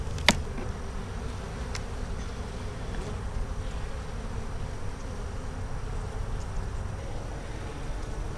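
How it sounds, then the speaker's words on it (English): A steady, dense insect buzz fills the whole stretch, like many bees droning around a hive, with a couple of brief clicks near the start. "They got a lot of bees returning from flights"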